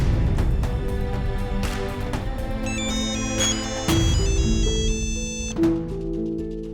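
A phone ringtone plays a bright repeating electronic melody, loud and close, looping for several seconds with no talking.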